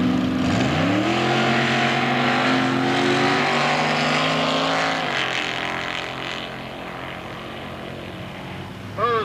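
Jet-powered drag cars roaring down the strip at the Wildhorse Saloon Gambler's Classic in 1998, a loud sustained whine and rumble with rising tones, under a race announcer's voice.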